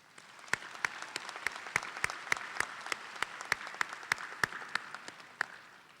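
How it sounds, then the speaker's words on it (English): Applause from a commencement audience at Albany State University, with sparse, distinct individual claps over a soft wash of clapping, steady for several seconds before thinning out. "you all deserve a round of applause"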